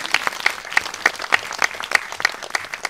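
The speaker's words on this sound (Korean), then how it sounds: "박수 좀 내주세요." A studio audience at a Korean talk show claps in a steady, evenly spaced rhythm, with sharp, fairly close claps landing about three times a second throughout.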